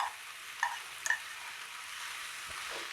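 Brown rice hitting a hot frying pan, a steady broadband sizzle with a few brief clinks and scrapes near the start, close and fairly soft, with no one talking.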